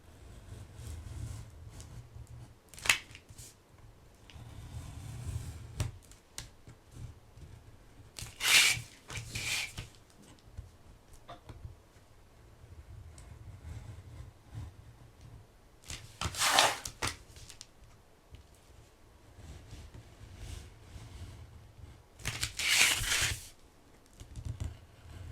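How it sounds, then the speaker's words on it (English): A finger blade cutting paper around a template for a DIY flat-fold card: faint, quiet scratching and scraping strokes in short bursts separated by pauses, close up with a low background hum. "now I'll take my finger blade and we're just going to cut around our template"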